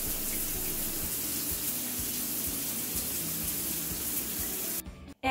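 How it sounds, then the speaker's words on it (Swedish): A morning shower runs steadily, a constant hiss of spraying water close by, then cuts off abruptly near the end with a brief silence before a sudden knock. "Jag duschar på morgonen."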